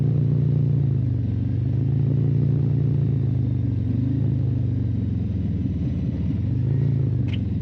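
A Harley-Davidson motorcycle downshifting on a downhill stretch of a winding Oklahoma road, its engine a steady low rumble with slight shifts in pitch, loud and close throughout with no voices.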